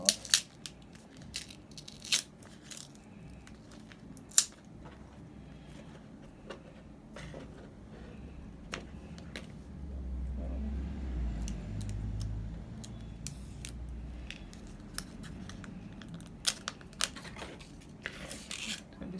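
Tape is peeled from the packaging of an Apple Thunderbolt 3 (USB-C) to Thunderbolt 2 adapter box, giving faint, scattered sharp crackles and ticks with a soft sticky rasp in between, close by and quiet.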